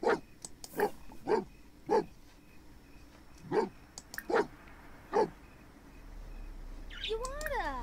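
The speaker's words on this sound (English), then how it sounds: "No barking." Dog barking in The Sims 4, about eight sharp woofs in irregular bursts, fairly close and loud, with chirpy bird-like game sounds entering near the end.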